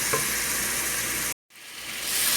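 Tomato masala fries in a pan, a loud, close, continuous sizzle that cuts out abruptly for a moment and then swells back up, with no one speaking.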